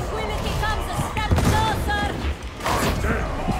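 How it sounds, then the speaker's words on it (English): Grenades go off during a firefight in Warhammer 40,000: Darktide as a dense, layered clatter of blasts and gunfire with a couple of heavier bursts, close and continuous, with voices partly in the mix. "Grenades out! Grenades out!"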